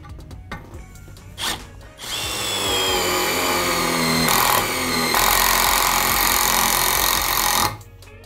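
A Milwaukee M12 FID impact driver bores into a roughly 1 cm thick steel plate, its loud, close, steady whine running for several seconds with a short break and shift in pitch midway before stopping, preceded by a few clicks.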